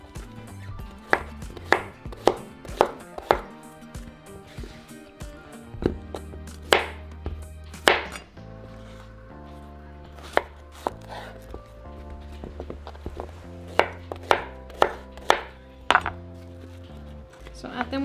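A knife chops through squash on a cutting board in a kitchen, with a string of sharp, close knocks at irregular intervals over low background hum and faint clatter.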